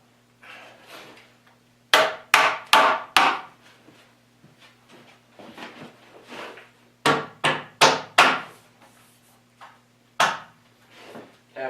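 Wooden joints of a pencil post bed being tapped into place with a hammer, two rapid clusters of four or five sharp knocks separated by softer taps and brief pauses, close and clear with no talking.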